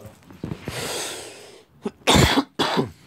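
A single person coughs and clears their throat during a Vainglory mobile game livestream, a few sharp bursts close to the microphone with short pauses between them.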